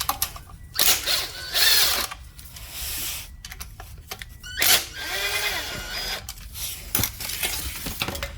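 Tools working on the transmission filter housing of a Toyota Tarago/Estima with a 2GR V6, with loud, close bursts of power-tool whirring and ratcheting that start and stop repeatedly, separated by short quiet gaps.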